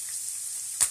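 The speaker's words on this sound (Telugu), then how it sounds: "ఇప్పుడు ఆయిల్ వేడెక్కిందండి, మనం దీంట్లోకి ఈ చిక్కుడుకాయని వేసేస్తున్నాను" Broad beans fry in hot oil with a steady close sizzling hiss, and a sudden sharper crackle flares near the end.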